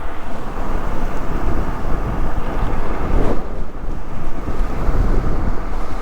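Wind roars over the microphone while riding a Luckeep X2 dual-battery electric commuter bike at speed against a headwind, a loud constant buffeting rush with no talk.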